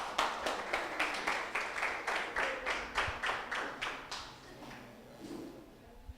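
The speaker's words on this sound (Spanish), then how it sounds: "Colóquese de pie y denle un aplauso fuerte al Señor." A church congregation claps in unison at a Sunday service, with around fourteen crisp, rhythmic claps in a steady beat that then loosens and fades into scattered quieter sounds.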